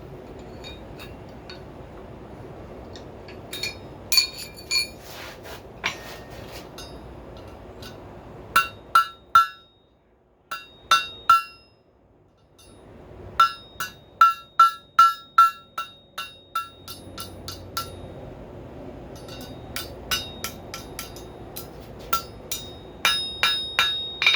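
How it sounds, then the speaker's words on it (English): A hammer strikes a round punch to spread open a forge-welded steel fork, ringing out in runs of bright, metallic blows, some quick and some spaced, with short pauses between the runs. "Let's open this up a little bit with a round punch"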